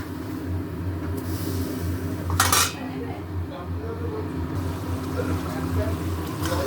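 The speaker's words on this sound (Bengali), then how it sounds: "এগুলো এটা দিয়ে খুব ভালো করে কষাবো" Spices being sautéed in oil in a pan, with a low rumbling background, a faint hiss and one sharp metallic clank of a utensil against the pan midway.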